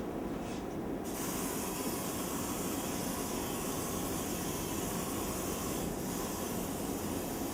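Cristanini SX34 decontaminant sprays onto a detector with a continuous loud, dense hiss that runs steady and unbroken from start to finish, close by.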